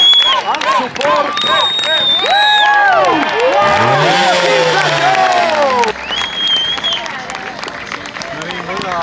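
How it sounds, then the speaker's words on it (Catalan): A lively crowd at an outdoor motorcycle trial exhibition claps, whistles and shouts loudly, with piercing rising whistles and cheering swelling to a peak before tapering off, voices mixed in. "fixeu-se que no decaiguin els aplaudiments, els xiulets, els crits"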